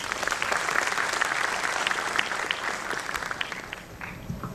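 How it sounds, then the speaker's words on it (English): Sustained applause from an audience, steady clapping that gradually thins out near the end. "let's give a big round of applause for Vijaykumar Jangamashetti."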